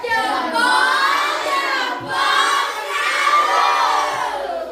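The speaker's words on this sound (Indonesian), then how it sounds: "Silakan kasih tepuk salut. Tepuk salut." Classroom of children doing a group clap cheer, loud chanted shouting voices in unison with rhythmic rises, a brief dip midway before the cheer resumes.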